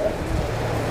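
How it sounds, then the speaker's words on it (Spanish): Rain falls steadily on an outdoor sound-equipment setup being installed in Santa María, a continuous dense hiss of drops with no distinct individual hits. "Así con la lluvia que pues ahorita"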